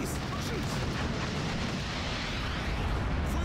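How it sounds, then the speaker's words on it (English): Bombing run explosions in the Steel Division 2 wartime strategy game, a steady, loud roar of overlapping blasts and rumble that continues without a break. "in come some bombing runs"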